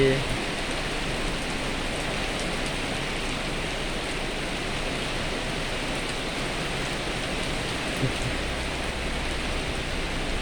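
Heavy rain pouring at a petrol station during a storm, a dense, constant hiss of falling water that runs unbroken throughout, fairly faint and without noticeable gaps.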